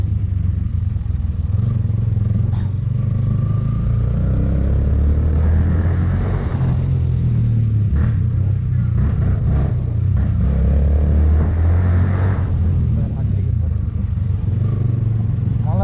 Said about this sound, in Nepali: अब बाइक कुद्न त कुदिरहेको छ